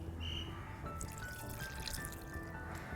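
Coconut milk pours into soaked date juice in a kitchen, a soft, faint continuous liquid stream lasting a few seconds with light splashing and no voices.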